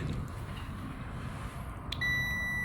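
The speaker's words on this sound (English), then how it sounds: "Its beep sounds means connection is good." A steady electronic multimeter continuity beep starts near the end and holds without a break while checking an SBUS cable, set against a low background hum.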